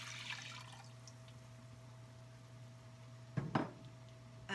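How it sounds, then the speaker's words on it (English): Violet tea made for jelly splashes briefly into a pot, a short, quiet pour over a faint steady background hum. "We're going to add to it the tea that we made"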